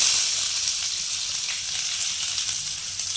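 Big onions sizzling in hot oil, giving a steady, bright hiss of frying that runs close and unbroken throughout.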